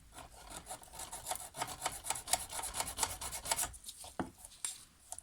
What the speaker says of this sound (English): Just a couple of light little strokes. Just cleans the burrs off the underside.